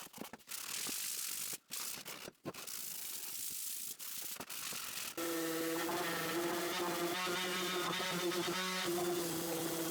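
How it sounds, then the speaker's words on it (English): Sander working the faces of a wooden 2x4 project: scraping, rubbing strokes with short gaps, then a continuous close whirring drone that holds steady to the end. "Once done, sand the faces with a sander."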